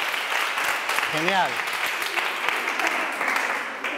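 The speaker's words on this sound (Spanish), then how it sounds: "Un aplauso, muy bien." Children applaud together during a physical education class, with a steady patter of clapping throughout and a voice speaking briefly over it.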